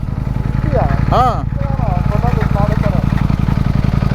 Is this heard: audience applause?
no